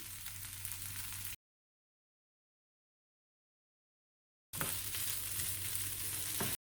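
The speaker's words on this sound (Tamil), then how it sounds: "வல்லாரையை நல்லா வதக்கிக்கணும் ஒரு கால் கப் அளவு தேங்காய் பூ சேர்த்து வதக்கலாம்" Brahmi (vallarai) leaves and grated coconut sautéing in a pan give a steady sizzle in two bursts separated by a silent gap, close and moderately loud, with no talk.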